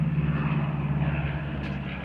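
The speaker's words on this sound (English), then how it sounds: "See if I can get this plane coming around." A crop-dusting plane flies over a corn field, its engine a steady, droning hum with no voices.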